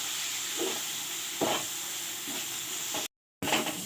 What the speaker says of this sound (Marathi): फ्राय केलेले मी सर्व साहित्य आता गरम पाणी टाकून घेणार आहोत आपण भाजीला